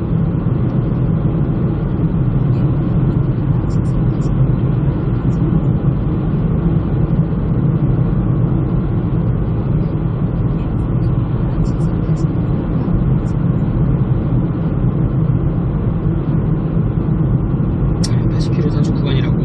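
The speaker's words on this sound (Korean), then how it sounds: "타이어 소음이 좀 많이 심합니다" Steady low roar of tires on pavement fills the cabin of a moving Niro, driving under 80 km/h, constant and loud throughout, with someone talking over it.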